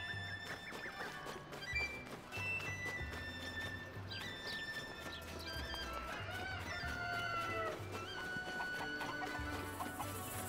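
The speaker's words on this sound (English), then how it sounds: "There were chickens." Game-world chickens cluck and a rooster crows in The Legend of Zelda: Tears of the Kingdom, with hooflike clip-clop steps and layered bird calls over a soft, steady ambient bed, moderately quiet and without talk.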